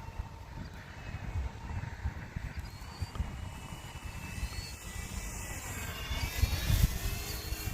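An E-flite Turbo Timber radio-controlled model airplane drones overhead with a steady buzzing propeller whine, swelling louder toward the end as it passes close, with wind and outdoor background noise.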